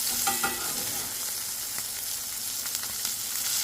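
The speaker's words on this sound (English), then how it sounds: "getting a nice sear on both sides" Mahi mahi sears in a hot pan with a dense, steady sizzle and crackle throughout, broken by a few scraping stirs near the start.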